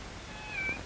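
A single short, faint meow from a cat rises thinly over steady background hiss in a quiet indoor room.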